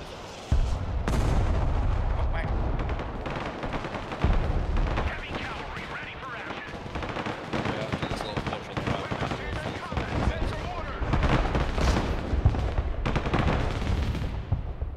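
Booming artillery fire and explosions in the video game Broken Arrow, loud and repeated over a steady rumbling battle bed, with people talking over much of it.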